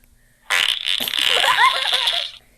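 A fart sound effect played from a phone soundboard app, one sustained buzzy, wobbling blast lasting nearly two seconds, loud and close, with no talking over it.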